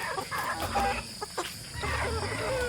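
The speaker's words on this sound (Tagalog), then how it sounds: "Ang ating mga alagang manok." Chickens, including Radical Brown hens, cluck and murmur close by in a lively flock, with scattered calls over steady farmyard background noise.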